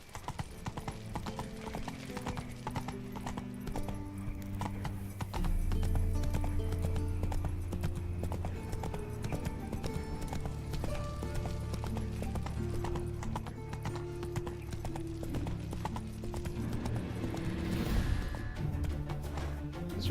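A horse gallops in the video game Witcher 3, its rhythmic hoof clip-clops running steadily beneath game music, with a brief neigh.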